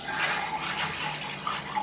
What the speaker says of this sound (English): if we go ahead and turn on the faucet